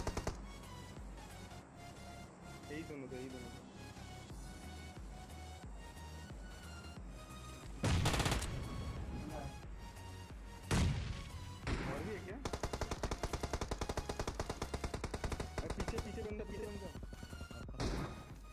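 PUBG Mobile gunfire from an M249 and an AWM: rapid bursts of machine-gun fire and heavy single sniper shots, loud and close, layered with game sounds and background music.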